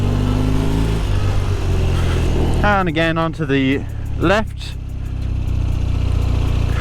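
A 1972 BMW R60/5 motorcycle being ridden, its engine droning steadily underneath, with several clear rising and falling revs as it pulls away and changes gear, close to the rider, who talks over it.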